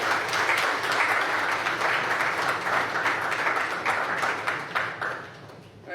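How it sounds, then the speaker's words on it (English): Guests at an AmCham Guyana welcome reception give the U.S. Ambassador a full round of applause, a thick sustained roar of clapping that holds for several seconds before tapering off near the end. "Another round of applause, please, for Madam Ambassador."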